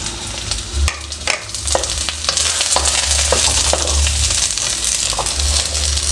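Onion goes into a hot pan with fried fish fillet and garlic, giving a loud, continuous sizzle broken by scattered crackles and stirring clicks, with no voices.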